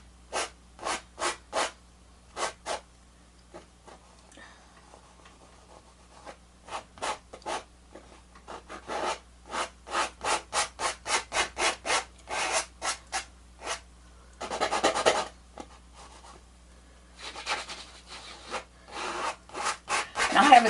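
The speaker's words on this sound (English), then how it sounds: "just scrape some more of this off because we don't want a lot of paint on here" Repeated short scraping strokes of a palette knife across oil paint on a canvas during a mountain snow scene painting, coming in quick rhythmic bursts with brief pauses, close and moderately loud.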